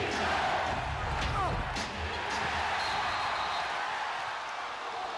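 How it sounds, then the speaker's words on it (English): Crowd noise swells in a basketball arena during a 1993 Sonics vs Rockets Game 7, a broad steady roar of cheering with a faint shoe squeak, filling the space under an announcer's voice. "See, that got this crowd going."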